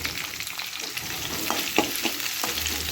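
Crushed garlic fries in hot oil with curry leaves, a dense steady sizzle with small crackles and pops close by, with no voices.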